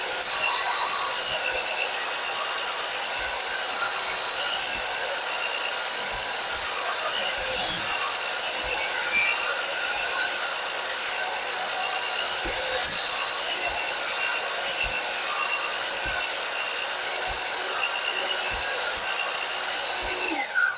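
A hand saw cuts repeatedly through wood for a lap joint on a wooden cross, giving a continuous, close rasping stroke sound that runs throughout without talk.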